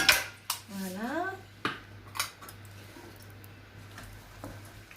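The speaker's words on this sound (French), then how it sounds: "Et je ferme ma cocotte" A metal lid clanks onto a cocotte cooking pot holding peas, carrots, artichokes and Jerusalem artichokes, a few sharp knocks and scrapes close by amid kitchen clatter.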